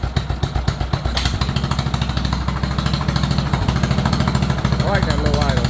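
Bolens 38-inch riding lawn mower engine idling low nearby with a steady rapid chugging throb, while someone talks over it.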